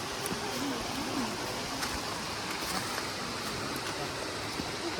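Şicir waterfall in Astara gives off a constant broadband rush of falling water, steady and fairly close, with no clear voices over it.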